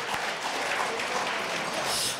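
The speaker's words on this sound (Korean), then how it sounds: "우리 문재평 동문님한테 박수 한번 보내주시기 바랍니다" An audience at a Gwangju high school alumni association New Year gathering and general meeting claps in a steady, dense wash of applause, moderately loud and continuous for the whole stretch.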